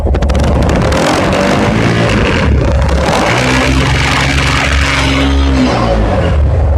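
A Ducasu DK 400-RR sports motorcycle engine revs hard on a road in Keraniganj, a loud, close roar that swells with each twist of the throttle and settles into a rising whine, buffeted by wind.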